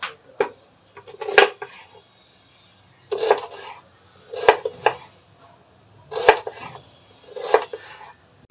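A knife chops yardlong beans, green beans and onions for a stir-fry in short clustered bursts of sharp taps on a board, separated by brief pauses, close and fairly clear.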